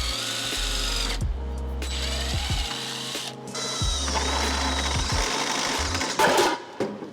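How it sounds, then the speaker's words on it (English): A power drill bores into metal on a car body near the fuel lines, with several bursts of whirring and ratcheting separated by short pauses, close and fairly loud with no talk. "I probably shouldn't have been drilling that close to the fuel lines"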